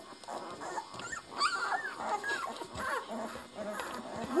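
Several newborn puppies, black ones among them, whimper and yip softly as they stir awake on a blanket in their second week, with thin overlapping cries scattered throughout at close range.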